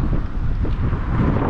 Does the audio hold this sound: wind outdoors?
yes